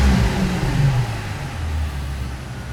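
A 2008 Mercedes-Benz S65 AMG with its 12-cylinder engine rumbles during a test drive. The low, smooth engine drone is steady and close, with road noise and a slight easing in load partway through.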